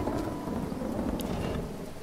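In the video game Dead in Vinland, steady rain falls with a low rolling rumble of thunder beneath it. The dense hiss of the downpour continues throughout, with no voices.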